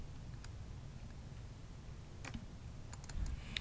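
Keys clack on a computer keyboard in a short, quiet burst of scattered taps while someone enters text into an Excel spreadsheet, with no talk over it.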